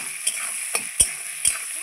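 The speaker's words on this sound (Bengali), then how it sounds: "আমার পেঁয়াজ ভাজা হয়ে গেছে" Chopped onions, softened and lightly browned, sizzle in a pan for rohu fish curry. The frying hiss runs continuously up close, broken by four quick spatula scrapes against the pan.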